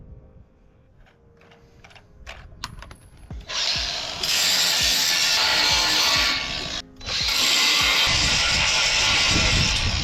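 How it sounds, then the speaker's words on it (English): An angle grinder grinding metal flat on a 1969 Jeep CJ5 rack build, a few clicks and knocks before a loud, harsh, continuous grinding hiss starts, briefly dipping once before resuming, close by. "Just grind it flat and then we'll weld it on both sides"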